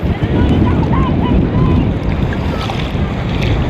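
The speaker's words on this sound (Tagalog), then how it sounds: "malakas po yung masyadong alon" Strong sea waves churn around a small wooden outrigger boat, a loud, continuous rush of surf and water mixed with heavy wind buffeting the microphone.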